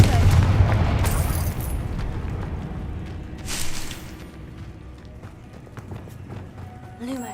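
A Confringo fire spell exploding in Hogwarts Legacy, a booming blast that opens loud and then fades, with a few later bursts over rumbling game ambience and a voice casting spells.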